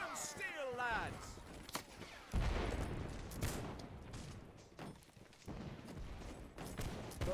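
Musket volleys and scattered gunshots crackle and boom in the Napoleonic-era battle game Holdfast: Nations At War, with loud repeated reports mixed with shouting voices and battlefield noise throughout.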